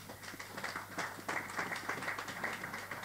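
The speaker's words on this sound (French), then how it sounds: "Applaudissez pour notre frère." A church congregation applauds for a fellow member, soft scattered clapping from many hands, faint and somewhat distant, with irregular bursts over a low hum.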